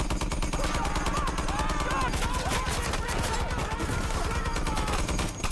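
Dense, rapid automatic gunfire from the horror film V/H/S/94 hammers loudly and continuously for several seconds in a relentless fusillade, with faint voices buried underneath.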